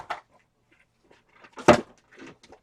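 A desk drawer in a craft space is opened and rummaged through while hunting for a small sponge brayer, giving a few sharp clunks and rattles with quiet gaps between.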